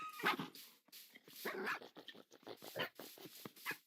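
Puppies barking and yipping in quick, irregular bursts close by, with some whimpering mixed in, filling the whole stretch indoors.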